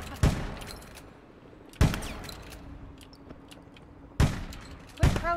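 Shotgun blasts in APB Reloaded: four sharp, loud reports spaced irregularly over a few seconds, each with a short decaying tail over quiet background rumble.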